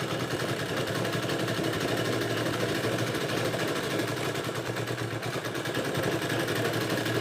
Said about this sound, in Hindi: तो ये अब सिलाई आगे बढ़ाते हैं